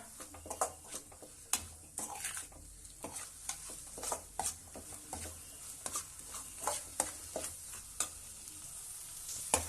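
Brain and egg fry cooks in a pan, a soft sizzle under repeated quick scraping and tapping of a spatula as it is stirred and mixed, close and fairly quiet, no talk.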